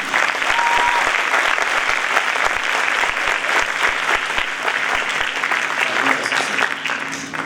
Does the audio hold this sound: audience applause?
yes